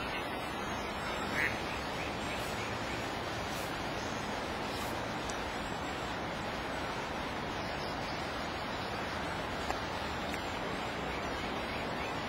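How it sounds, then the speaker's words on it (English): A duck quacking beside a river while fly fishing at Hungerford, a single brief call nearly lost under a constant broad rush of flowing water. "One of the ducks is after his fly."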